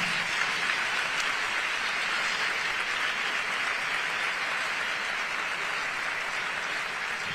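Dense, sustained audience applause fills a hall during a Córdoba carnival proclamation event in 2023, an even wash of clapping with no break and no voices.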